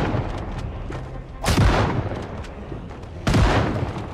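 Heavy gunfire against zombies in a modded extraction shooter hospital assault, with two big booming shot bursts standing out over a constant rumble of distant firing.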